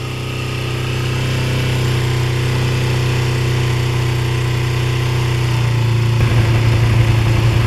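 A 2006 Kawasaki Ninja 250R engine idles steadily and loud up close at about 1,200-1,300 RPM while warming up, a low even rumble that turns rougher and more uneven near the end.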